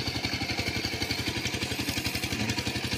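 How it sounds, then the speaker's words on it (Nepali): A tractor ploughs a rice paddy in Sundarijal, its engine giving a steady, rapid throbbing chug at moderate distance over a faint wash of open-air noise, with no talking. "2 जना यहाँ ट्र्याक्टर जोत्दैछन्।"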